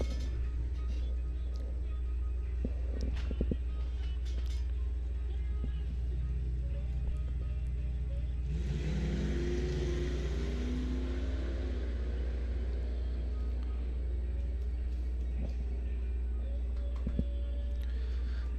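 A 1982 Chevrolet S10 and a 1984 Camaro at a drag strip: a low engine rumble that swells into a rising, growling run partway through, then settles back into a steady drone.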